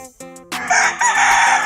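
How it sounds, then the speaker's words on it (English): A Colonel Givens rooster, about 16 to 20 months old, crows loudly and close by on a Georgia farm, one strong harmonic call that rises, holds and trails off, with a lower clucking note just before it. "They're all pretty nice roosters."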